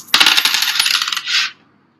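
Coins tossed and dropping onto a surface in a counting game, a quick clattering burst of metallic impacts and jingles lasting about a second, ending in a brief ringing spin before going quiet.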